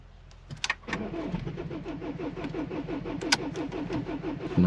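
A car engine cranks over and over in freezing cold without catching, the starter churning in a steady rapid rhythm for several seconds, close and fairly loud, with a few clicks at the start.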